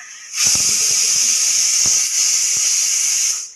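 Boiled potatoes hiss loudly as they hit hot oil with dried and green chilies, a steady broad sizzle from start to finish with a few crackling pops, close and with no talking.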